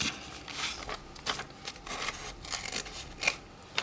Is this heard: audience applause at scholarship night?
no